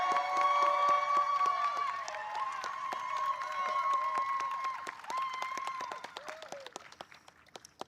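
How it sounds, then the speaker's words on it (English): An audience at a national teacher-of-the-year ceremony applauds while music plays. The clapping is loud and sustained at first, then thins to scattered claps as it fades. "Let's give Tabitha a loud round of applause."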